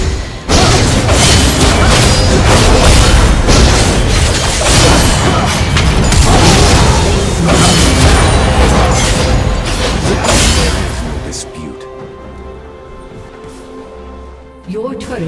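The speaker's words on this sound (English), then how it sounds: "Your turret has been destroyed." A turret destroyed in League of Legends during an AR U.R.F match, with a long, loud run of booming crashes, whooshes and mechanical debris that fades toward the end.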